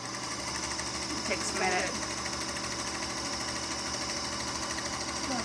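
A sewing machine stitches right-sides-facing fabric around all four sides of a quilt half-square triangle, a steady mechanical whir running the whole time beneath a short spoken remark.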